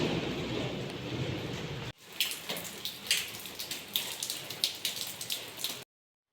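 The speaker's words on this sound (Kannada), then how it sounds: "ಮಳೆ ರಾಯ ಹಾಗೆ ಸುರಿತಿದ್ದಾನೆ" Steady rain falls in a night-long monsoon downpour, a dense hiss of drops with sharp individual splashes pattering on a nearby surface before cutting off abruptly.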